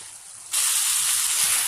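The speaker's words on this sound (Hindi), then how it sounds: "अब मैं इसकी भुनाई करना शुरू करती हूँ और साथ साथ आपको दिखाऊँगी।" Minced meat (keema) frying in a pan over medium heat, a loud steady hiss and sizzle that jumps up sharply about halfway through and then holds constant, close by.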